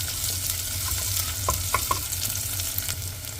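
Small onions and garlic sautéing in a pan for temple-style sambar rice, a steady close sizzle with a few light stirring scrapes and taps of the spoon, no voices.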